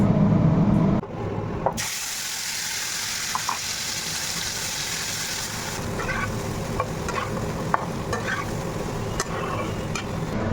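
Vegetarian potato curry (aloo dum) with yogurt, tomato, poppy seed, cashews, cardamom and cinnamon frying in a pan, a continuous close sizzle with scraping stirs and occasional spoon clicks.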